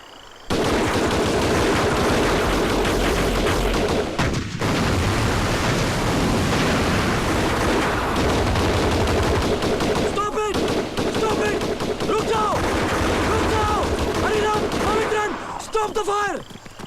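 Heavy, sustained machine-gun fire rattles almost continuously through a film battle scene about Netaji Subhas Chandra Bose, loud and close, with shouting voices and a few brief pauses in the barrage.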